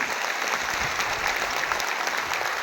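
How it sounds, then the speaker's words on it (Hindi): Dense, steady applause from a large crowd at a political rally in India, many hands clapping continuously without a break. "जोरदार ताली बजा के स्वागत करिए"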